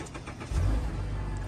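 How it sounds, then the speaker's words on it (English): A Mazda car engine starts at a dealership, a short low rumble that catches and settles into a steady idle, close by after a moment of quiet background. "So now the car is turned on."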